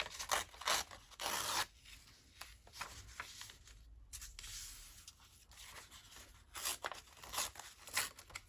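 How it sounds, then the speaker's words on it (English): Decorated scrap paper torn by hand along a fold, with several bursts of ripping and rustling separated by brief pauses, close and fairly quiet. "tear that off."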